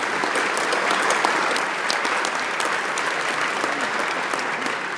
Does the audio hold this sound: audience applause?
yes